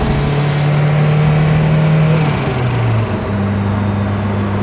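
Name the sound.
car engine shifting into third gear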